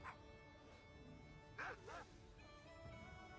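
A pet dog in World of Warcraft barks as an ability, giving two quick yipping barks in the middle. Faint, over a steady bed of game music.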